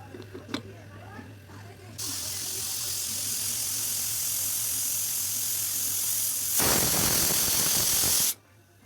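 Pressure cooker cooking beetroot sabzi releases a loud, steady hiss of steam that builds and then ends abruptly, preceded by a few clanks.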